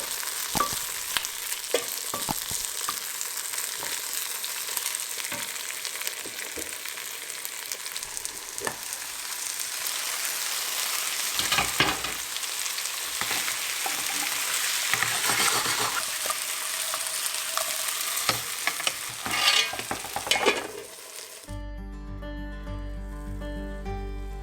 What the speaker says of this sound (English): sauteing the toppings will give the extra taste coming from roasting